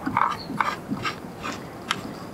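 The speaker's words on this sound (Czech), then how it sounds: "Upnu obrobek." Workpiece clamped on a miter saw in a workshop: several short clicks, rubs and ratcheting scrapes come in quick sequence, fairly close, with no voices.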